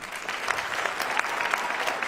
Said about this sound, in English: please hold your applause or responses so that we can get to as many questions as possible